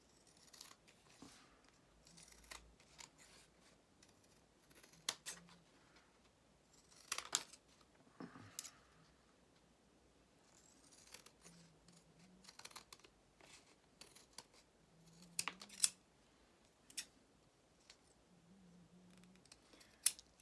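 Quiet, close snips of scissors trimming paper for a handmade journal, several scattered cuts with crisp little snaps between soft rustling and handling noises.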